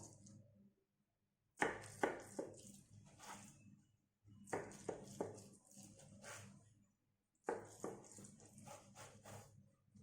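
A knife cuts through soft homemade Egyptian areesh farmer's cheese made from milk, giving three bursts of soft, close, rhythmic chopping thuds separated by pauses, with no talking.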